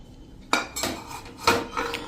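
Grated paneer and chopped vegetables being mixed in a bowl, four distinct clinks and scrapes of a spoon against the bowl spaced about a second apart, close and clear over a quiet background.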